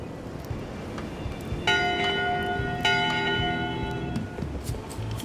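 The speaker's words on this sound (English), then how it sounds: "1 bell, crew voting. 2 bells, LeChuck shouting" A ship's bell in the video game Return to Monkey Island strikes twice, two bright metallic clangs spaced about a second apart, each ringing out and slowly fading over faint background ambience.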